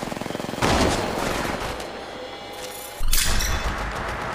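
Rapid gunfire bursts in the Apex Legends Mobile video game, a dense volley at the start and another loud burst near the end, close and sharp with no talk over it.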